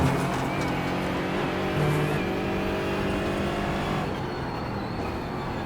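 Aston Martin GT4 race cars roar around the VIR circuit in racing game audio, a loud sustained engine drone with gear-shift changes, no talk.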